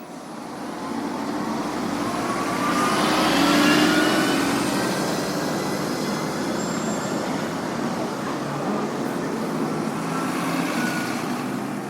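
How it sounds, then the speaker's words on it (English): Traffic rumbles steadily at a bus station in Mong Kok, Hong Kong, with buses and vehicles passing and engines swelling briefly, a continuous moderately loud roadway din. "The bus station in Mong Kong seems like any other stations around Hong Kong."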